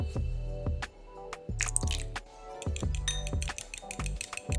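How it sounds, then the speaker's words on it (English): One egg being beaten with a small trickle of water in a bowl, producing rhythmic wet clinks and taps as the utensil strikes the bowl, repeating in quick bursts with brief pauses, close and fairly quiet. "Mix that egg up."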